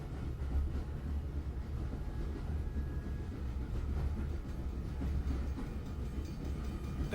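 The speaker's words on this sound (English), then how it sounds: "how do you know that I take this train every day?" Train ambience from the video game Grunnd: a steady low rumble of a moving train carriage with faint rattling, continuous and even throughout, with no talking.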